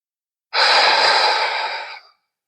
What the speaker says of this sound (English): This should mostly be done nasally. I shouldn't have to use my mouth, especially on the inhale.